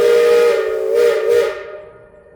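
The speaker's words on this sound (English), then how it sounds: "you can actually hear this old whistle on a good clear morning like today" A narrow gauge steam train whistle on the Cripple Creek & Victor Narrow Gauge Railroad blows a long, loud, hissing tone that wavers in pitch, then fades out into quiet.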